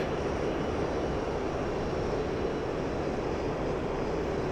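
Mirage F1CE jet engine at about quarter throttle in the DCS flight simulator: a steady, loud, continuous roar and rumble with no pauses and no voices.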